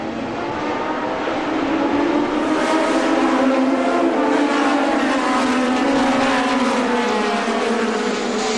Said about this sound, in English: On board now with the man Alan was just talking about, Duncan Dayton, in his 2-liter Chevron B23.